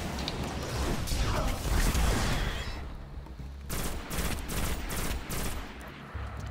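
Heavy gunfire in Destiny, a dense, loud barrage of shots and mechanical clatter early on, then scattered separate shots and bursts, with faint voices underneath.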